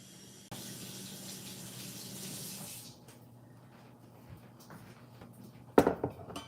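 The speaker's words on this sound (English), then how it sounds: "I'm just gonna rinse it." Water from a kitchen tap runs steadily while something is rinsed under it, the flow cutting off after a few seconds, followed by quiet handling noises and a sharp clatter near the end.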